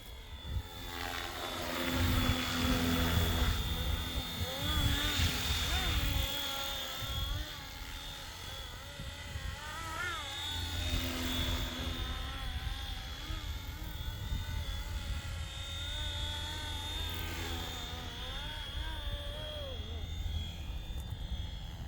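A Flywing FW450 RC helicopter flies at full speed, its steady high rotor and motor whine holding throughout with some surging, close and fairly loud, while a voice talks over it.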